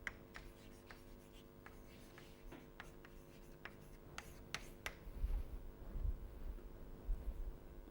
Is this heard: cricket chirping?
no